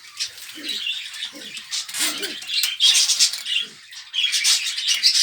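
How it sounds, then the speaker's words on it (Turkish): Pigeons coo in low, soft bursts inside a coop beneath a busy wash of chirping birds and rustling, with occasional fluttering close by. "Orada da güvercin kümesimiz var."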